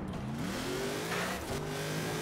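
A truck engine in the racing game Forza Horizon 4 on a snowy winter road, revving steadily with rising and falling pitch, close and continuous, no talk.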